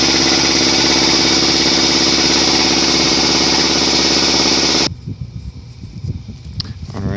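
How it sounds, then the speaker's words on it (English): A high-pressure air tank being filled by an air compressor, a loud steady mechanical drone that runs unbroken, then cuts off abruptly, leaving quieter irregular handling noises and faint rustle. "the compressor is still filling inside"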